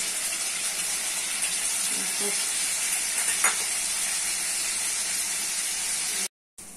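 Nigella seeds, dry chillies and nut paste frying in hot mustard oil, a loud continuous sizzle and hiss with a brief stir partway through, the sound cutting off abruptly near the end.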